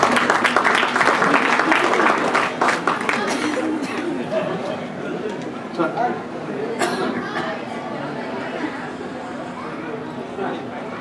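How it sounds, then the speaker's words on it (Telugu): An audience at a school silver jubilee function clapping loudly, a thick burst of applause that is strongest at first and then thins out, with someone talking over it. "మీ చప్పట్లు ఎంత గట్టిగా కొడతారో మరొకసారి గట్టిగా చప్పట్లు కొట్టాలి"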